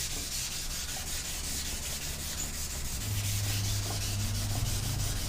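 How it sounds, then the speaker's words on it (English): Steady hand sanding across a painted panel, a continuous close scratchy rasp with quick back-and-forth strokes that grows slightly heavier partway through, with no talking. "as I'm sanding"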